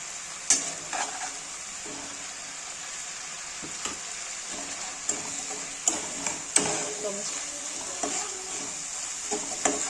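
Spice masala with Kashmiri chilli powder sizzles steadily in hot oil with rohu fish and cabbage. A continuous close frying hiss is broken by frequent scraping, clicking stirs.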